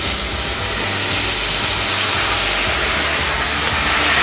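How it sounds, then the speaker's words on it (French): Loud, dense hiss as cider vinegar and white wine hit a hot pan to deglaze veal paupiettes, a steady broad roar of steam and sputtering that holds for several seconds without talk. "J'ai prévu aussi un peu de vinaigre de cidre et de vin blanc pour déglacer la paupiette"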